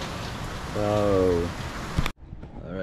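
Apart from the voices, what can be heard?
heavy rain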